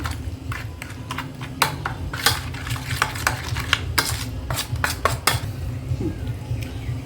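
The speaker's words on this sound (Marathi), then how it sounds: "हां मिक्स करून घेते छान" A spoon stirs chicken tikka marinade with ginger, garlic and green chilli paste in a bowl, making a steady run of close clinks and scrapes against the bowl wall, busy and fairly loud with no talking.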